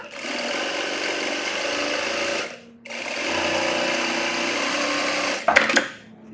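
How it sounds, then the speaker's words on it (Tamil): A sewing machine stitches along a blouse edge in two loud, even runs of fast motor whir separated by a short pause, ending with a clattering stop, close up and without talk. "கரெக்டாக எஜ்ஜு தையல் போடுங்க"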